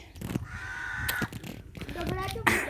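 A crow caws a few times while people talk nearby, with some household clatter in the background.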